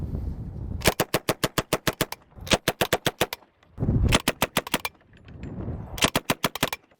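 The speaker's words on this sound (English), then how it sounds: "here's a video of Ian shooting the M3" An M3A1 Grease Gun submachine gun fires four short bursts, each a quick evenly spaced string of loud, sharp shots with a noticeably slow rate of fire, separated by brief pauses.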